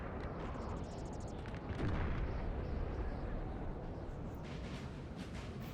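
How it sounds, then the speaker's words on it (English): Howitzer artillery fires in Napoleon Total War, a steady wash of distant battle rumble with a heavier boom swelling near the two-second mark, all under a dense continuous din. "We've still got howitzers firing in too, so Russia bought some howitzers."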